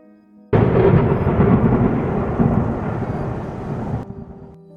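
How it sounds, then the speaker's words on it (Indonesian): A loud thunderclap bursts in suddenly and rolls on as a sustained, heavy rumble for several seconds before cutting off, with no voices present. "Kembali warga dikejutkan dengan suara petir yang menggelegar."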